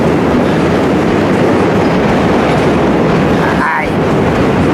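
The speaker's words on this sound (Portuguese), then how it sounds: "Simplesmente o trem passando lá em cima." A train passes overhead on an elevated track in New York near the Dumbo bridge, a loud continuous roar with rattling clatter filling the whole clip, plus a brief squeal near the end.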